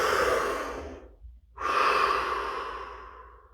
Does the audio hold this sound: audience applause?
no